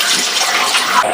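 Water, around a litre, streams steadily into a kadai on the stove while mushroom masala gravy is being prepared, a continuous splashing pour heard close and alone.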